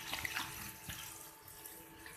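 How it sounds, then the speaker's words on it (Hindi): Half a litre of water is poured into a pressure cooker holding spiced goat trotters and garlic water, making a faint, steady, continuous splashing pour close by. "अब इसके साथ मैं आधा लीटर पानी शामिल कर दूंगी।"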